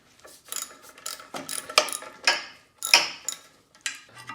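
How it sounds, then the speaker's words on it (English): Bolts coming off the clutch pressure plate of a Porsche 914 under a hand ratchet, heard as several close, sharp clicking bursts spaced irregularly with brief pauses between them. "So now we'll start taking off the pressure plate bolts."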